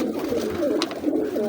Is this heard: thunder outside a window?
no